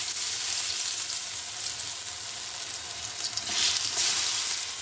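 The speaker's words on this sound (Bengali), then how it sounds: "এগুলোকে ছেড়ে দিচ্ছি।" Brinjal slices shallow fry in oil with a constant close sizzle that swells louder near the end as the pieces crackle more strongly, with no voices.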